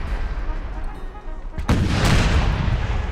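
Cannon artillery fire in the video game Empire: Total War: a heavy booming volley hits midway and leaves a roaring rumble, with a faint voice and battle noise underneath.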